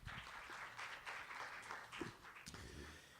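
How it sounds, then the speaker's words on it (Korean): Faint, scattered applause from a seminar audience at the Smart TV Global Summit 2012, welcoming a professor to the stage. The clapping is distant and uneven, with a few sharper individual claps. "박수로 환영해 주시기 바랍니다"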